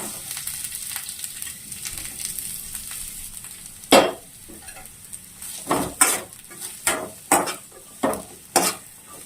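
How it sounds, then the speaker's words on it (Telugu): Onions fry in a little oil in a pan, giving a low sizzle under repeated sharp clacks of a spatula or spoon against the pan, coming in a loose rhythm in the second half. "ఈ ఆనియన్స్ వేగటానికి"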